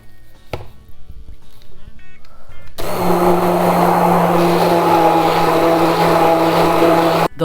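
Blender puréeing salmorejo, a loud steady motor roar that kicks in suddenly after a few quiet seconds of faint clicks and cuts out briefly near the end.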